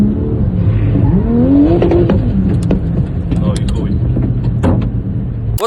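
A car drifting at night with its engine revving hard, a stock 2-liter automatic with a stock differential, the motor rising and falling continuously up close while voices talk over it.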